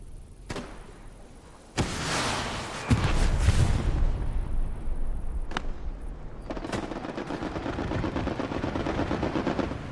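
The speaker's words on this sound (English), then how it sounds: "Strafe run coming in." Strafe-run gunfire in the World War II shooter Hell Let Loose on the Kursk map: a sharp crack, then a loud rolling barrage of rapid automatic fire and heavy impacts that continues as a dense rattling roar with a few isolated shots.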